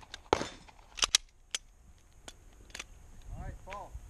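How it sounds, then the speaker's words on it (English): A Glock pistol fires a quick string of sharp shots at a steel challenge shooting match, some closer and louder, some farther off. A voice speaks briefly near the end. "I just started shooting"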